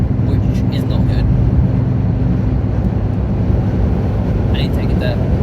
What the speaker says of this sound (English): my car sounds like an absolute jet engine right now